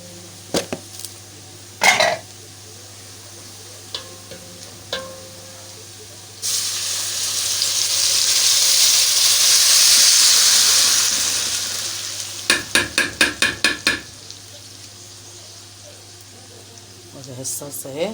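Black-eyed beans hit a hot pan and sizzle loudly, the hiss swelling and fading, followed by a burst of rapid scraping stir strokes and scattered clinks of utensils in a home kitchen.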